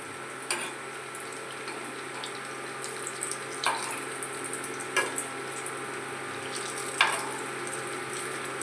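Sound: sweet potato puli frying in oil

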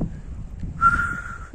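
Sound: person trying to whistle outdoors

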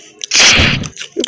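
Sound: sniper rifle gunshot in a video game

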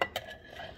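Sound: stirring cheese into a dish

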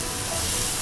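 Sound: stir-frying shredded radish and wood ear mushrooms in oil

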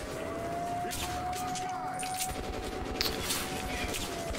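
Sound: gunshots in the video game Metro Last Light Redux

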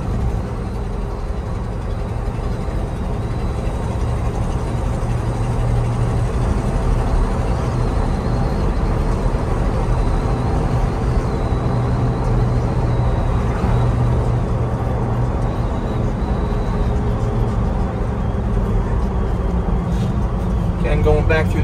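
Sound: 1968 Ford F-250 Highboy 4x4 truck driving, engine running

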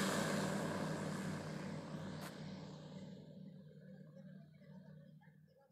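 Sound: small two-seat light aircraft engine flying

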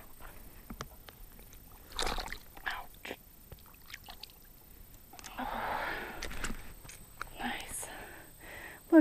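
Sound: rinsing caught fish off in water

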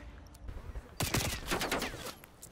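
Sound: gunfire in the video game Black Ops Cold War

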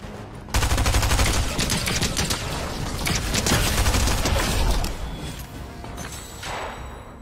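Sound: gunfire in Fortnite (video game)

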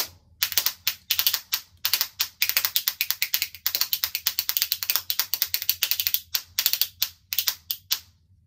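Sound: spoons played on the leg

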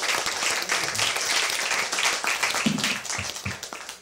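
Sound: audience applause for debater

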